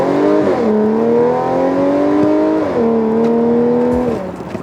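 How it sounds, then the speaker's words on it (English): Tuned Audi S4 launching hard with launch control, loud close engine climbing in pitch with two quick upshifts that drop the note before it rises again, then easing off, no talk. "let's try the launch control in this"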